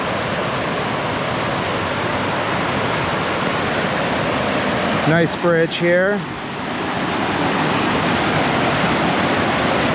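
Oneonta Creek rushing along with nearby waterfalls on a winter hike, a loud constant roar of flowing water; someone speaks briefly over it midway.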